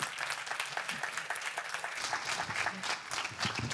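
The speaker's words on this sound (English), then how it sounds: "So let's give him a round of applause." Steady applause from a crowd, continuous clapping filling the space at moderate loudness with no talking.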